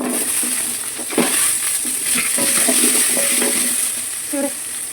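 Bread pieces are stirred into boiling sugar syrup with cardamom for bread halwa, giving soft scraping and bubbling under a constant hiss, with a few light clinks of the spoon against the pan.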